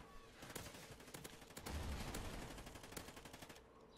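Rapid automatic gunfire in the video game Call of Duty: Ghosts, a fast string of sharp shots in bursts, quiet and steady, with no talk over it.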